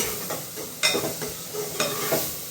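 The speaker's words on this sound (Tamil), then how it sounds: "தக்காளியை போட்டு நல்லா வதக்கணும்." Tomatoes sautéed in a pan for a bitter gourd curry, with a steady sizzle and scraping stirring strokes, a few sharper spoon hits standing out, close and alone without talk.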